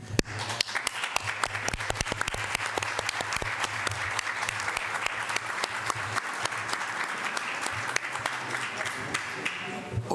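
Delegates at a special General Assembly of the OAS applaud at length, a steady, fairly soft roar of many hands with crisp individual claps scattered throughout and no break for the whole stretch.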